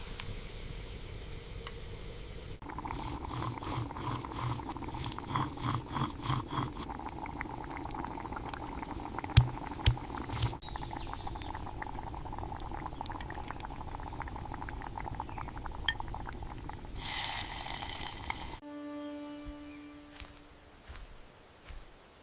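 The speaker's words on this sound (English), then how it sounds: "These are frying up just perfectly." Steady sizzling and crackling of food frying in a pan, with occasional pops and clinks, continuing for a long stretch before a brief metallic ringing at the end.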